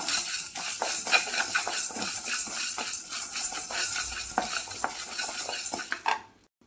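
Chana dal and urad dal roasting dry in a pan, with a spoon stirring in quick scraping, rattling strokes over a light sizzle, close and steady until it stops near the end.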